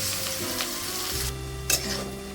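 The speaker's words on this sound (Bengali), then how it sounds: "গাজর ডিম ভাজা হয়ে গেছে" Carrot and egg fry in ghee with a close, steady sizzle, joined by a couple of brief stirring scrapes over roughly two seconds.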